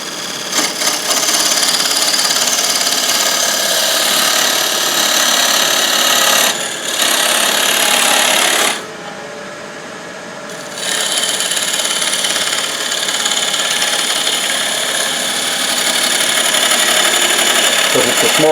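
A wood lathe turns a tenon on a small natural edge ornament, a steady broadband whir and cutting hiss running loud throughout, with a brief drop near the middle as the tool lifts off before cutting resumes.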